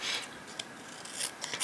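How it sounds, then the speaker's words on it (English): Scissors snipping through decorative paper for a Valentine's craft page, a few crisp, close cuts with a longer slicing stroke at the start and quick snips near the end, heard alone. "Probably would make more sense if I have some tool to cut it rather than scissors."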